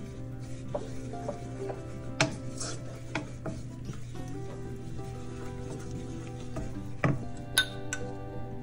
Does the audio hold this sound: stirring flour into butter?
yes